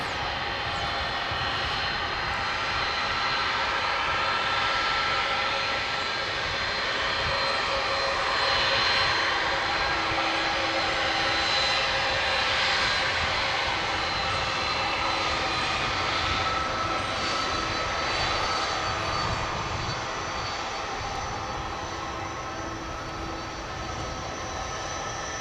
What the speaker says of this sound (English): That sound you hear is the big A300 coming in.